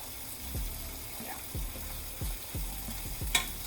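Seafood sizzles steadily in a giant frying pan, with a spoon or spatula scraping and stirring it in about five regular strokes, each one a short scrape over the constant frying hiss.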